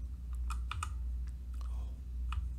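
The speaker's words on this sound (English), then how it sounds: "I got a new keyboard. It's a mechanical keyboard." Typing on a new mechanical keyboard, a few sharp clicky keystrokes scattered unevenly, some in quick pairs, fairly close over a low steady background hum.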